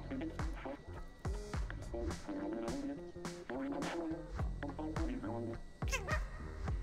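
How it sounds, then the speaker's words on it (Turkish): Cat in the video game Stray, meowing again and again in short, close cries spread across several seconds, some drawn out into wavering wails over a soft game background. "Miyavlıyor."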